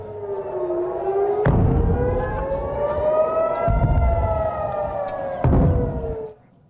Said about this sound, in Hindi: पोर्ट सिटी हाइफा में बजे रॉकेट सायरन।